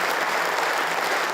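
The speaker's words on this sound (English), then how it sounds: "then applause." A football crowd breaks into applause at a ground after a two-minute silence of remembrance. The dense, sustained clapping from many hands sounds fairly close and holds steady throughout.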